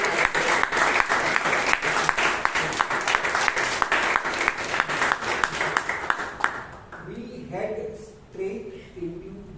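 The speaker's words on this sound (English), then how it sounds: "So big round of applause to all the table topic speakers." Audience applause at a Toastmasters club meeting in Bangalore, honouring the table topic speakers; dense, steady clapping fills the room for about seven seconds, then thins out into a few scattered claps and murmuring voices.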